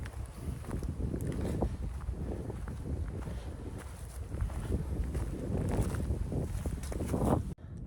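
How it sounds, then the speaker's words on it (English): Cool breeze blowing through the woods along the Appalachian Trail, a steady, full rushing noise close to the microphone with gusty swells and scattered rustles throughout. "Still a cool breeze blowing."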